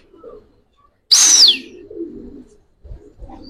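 Giribaz pigeons sound off nearby: a sharp, bright chirp cuts in, followed by low, murmuring coos and a few soft thumps.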